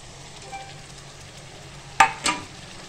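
Ground masala paste for a spicy bhaji rassa is sautéed in a pan, giving a soft, low sizzle throughout, with two sharp metallic clinks of a spoon near the end.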